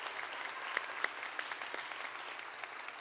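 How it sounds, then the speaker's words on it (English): Graduation audience at a Caldwell High School Class of 2020 ceremony applauding honor graduates, a steady, fairly distant wash of many hands clapping throughout. "if we could give them one more round of applause"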